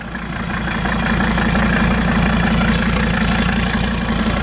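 A 1984 Mercedes five-cylinder diesel engine with a hood stack idling, a steady close, loud low rumble with an even knocking pulse throughout and no voices.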